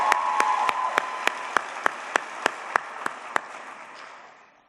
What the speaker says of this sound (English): Let's give one more round of applause to Cheryl Bartolotti.